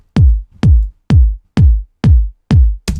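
Six evenly spaced kick drum hits, each followed by a long, washy reverb tail that smears into the next beat, giving a boomy, roomy decay; a clap-like hit cuts in at the very end.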